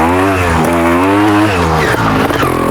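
Trials motorbike running a low tyre pressure, its engine revving hard as the rear tyre spins up, a close, loud buzzing drone that rises and wavers in pitch, then drops and sputters.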